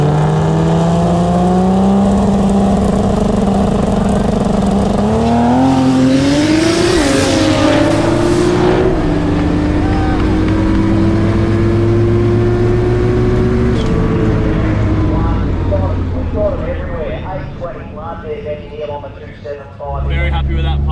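A Ford BA Falcon engine revs hard and climbs through the gears on a drag strip pass, roaring loudly up close before fading into the distance as it accelerates away.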